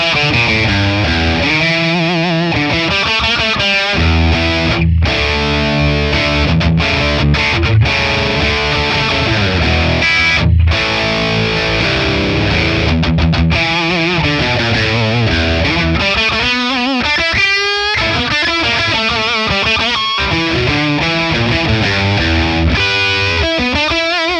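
A high-gain electric guitar plays through a ToneX ONE FRAM amp capture set scooped at gain three, with heavily distorted riffs, chugs and sustained chords filling the whole span loudly and continuously.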